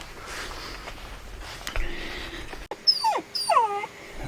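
A small female dachshund whines at close range in several high, drawn-out, wavering cries, following a stretch of soft rustling and faint background noise.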